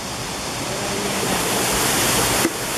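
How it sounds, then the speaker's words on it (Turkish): Cebel waterfall in the Amanos Mountains pours in a steady, loud, close rush of falling water that fills the whole stretch without pause, with a small bump near the end. "Amanos Dağları'nda Cebel Şelalesi'ndeyiz şu anda."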